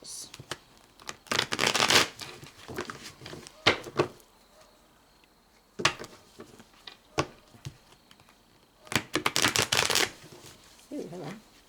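A deck of tarot cards is shuffled by hand in several separate riffling bursts, crisp and close, each lasting a second or two with quiet gaps between, and a voice speaks briefly in between.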